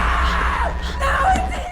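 A woman screaming after stumbling to the floor, a loud sustained wailing cry with a wavering pitch and a brief break midway, over low background rumble.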